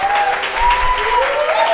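Live audience applauding at the close of a radio-hour performance, a steady wash of clapping heard close and continuous throughout, with a faint sustained musical tone running underneath.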